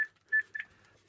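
A telephone gives a few short, faint electronic dialing tones in quick succession against near silence.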